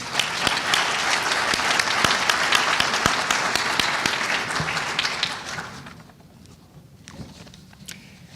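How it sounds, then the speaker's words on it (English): An audience at a history awards ceremony claps loudly and continuously for about five seconds, then the applause dies away into quieter room noise with a few last claps. "I would ask you to please applaud for his award"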